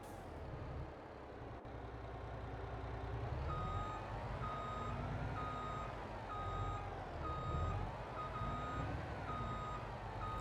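A truck's reversing alarm beeps in a steady, regular rhythm over a low idling engine rumble, moderately distant, in Farming Simulator 22.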